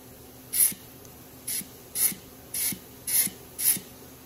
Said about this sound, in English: those are the friction discs being applied in pressure, so they're working